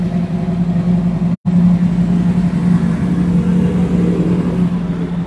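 A 1967 Chevrolet Camaro RS engine runs at a steady, loud, close idle rumble, briefly cut out once, with faint background noise at an outdoor car meet.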